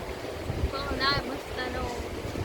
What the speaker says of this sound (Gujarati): આપણો અવાજ ઓછો આવશે દરિયાનો અવાજ વધારે આવશે